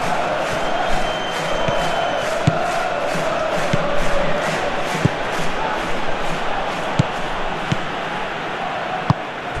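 A stadium crowd in the football video game PES 2021 keeps up a steady, loud roar with rhythmic chanting and occasional sharp thuds, filling the background without letting up.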